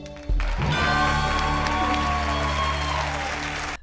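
Applause from a studio audience on a TV game show, a dense sustained burst starting abruptly and holding steady for several seconds before cutting off, with faint background music tones underneath.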